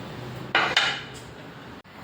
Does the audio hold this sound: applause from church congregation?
no